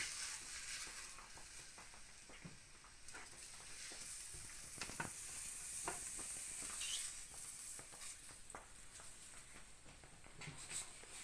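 Baby bok choy cooking in a hot pan reused after mushrooms: a quiet, steady sizzle with scattered crackles and soft stirring scrapes, faint and close, without voices.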